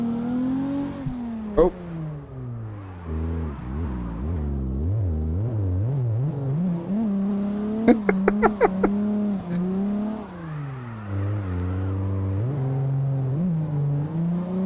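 A drift car of about 460 to 500 horsepower in CarX Drift revs hard and repeatedly as the clutch is kicked, its engine note rising and falling in wavering sweeps with a brief cluster of sharp pops, near and loud, with a single short exclamation.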